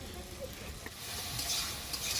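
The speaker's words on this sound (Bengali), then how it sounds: "আমার মশলাটা ভালোভাবে ভাজা হয়ে গেছে" Ground spices (coriander, turmeric, garam masala, red and Kashmiri chili powder) fry in hot oil in a pan, a soft continuous sizzle with light stirring that swells slightly toward the end, fairly quiet.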